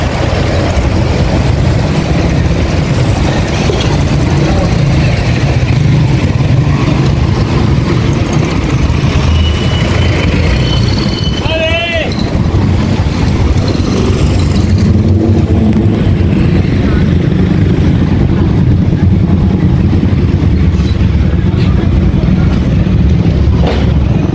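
Road traffic in heavy congestion, a loud, constant rumble of car and motorcycle engines close by with passing vehicles, a brief squeal and some faint voices mixed into the noise.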